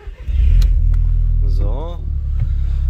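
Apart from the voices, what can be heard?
Seat Leon car engine starting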